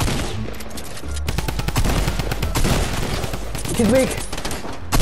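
Shooter video game gunfire with grenades in play: dense bursts of rapid shots and automatic fire run continuously throughout, close and loud, with a player talking briefly over it.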